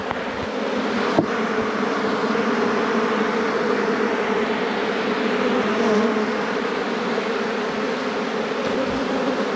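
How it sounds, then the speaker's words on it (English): A dense swarm of honeybees hums steadily and loudly around a mailbox, a continuous near drone without pauses and no talk over it. "That was a lot of bees."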